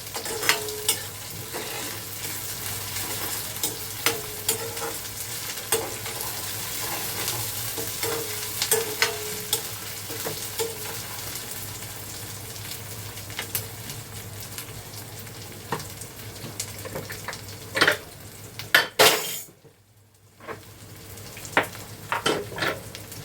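Vegetables fry in a pan with ginger-garlic paste, a steady sizzle running throughout while a spoon stirs and scrapes the pan in repeated clinks, with a brief quiet break near the end.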